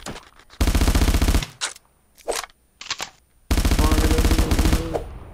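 Video game gunfire comes in rapid automatic bursts, loud and close, with several long volleys broken by short pauses and single shots.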